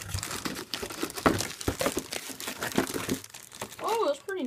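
Cardboard boxes and plastic packaging for an HP Pavilion touch all-in-one PC and keyboard being opened, with steady crinkling, rustling and tearing close by, mixed with speech and a brief voice near the end.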